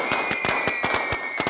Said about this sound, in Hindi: हर पटाखे के फूटने पर